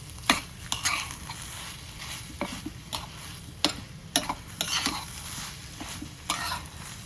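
Sugar being stirred into a mixture in a pan, sharp close scrapes and clinks of a spoon against the metal coming in irregular strokes over a low bubbling background, with no one talking.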